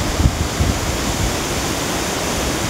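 Hillan Waterfall in Kashmir, seen from close up, gives a steady, loud, broadband roar of falling water that fills the scene with constant rushing noise and a few low thumps early on.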